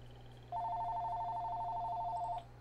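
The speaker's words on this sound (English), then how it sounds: "Fucking phone." A telephone rings once in a steady electronic tone lasting about two seconds, clear and fairly close over a low constant hum, with no talking.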